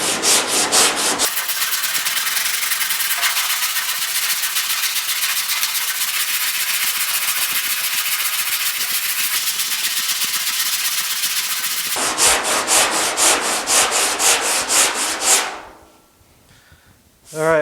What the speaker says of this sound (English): So I've got the extra long DuraBlock with some 40 grit on it